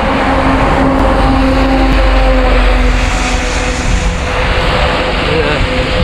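Cars drive along a rainy city street, a steady close wash of engine hum and tyre hiss on wet road continuing without break and loud throughout.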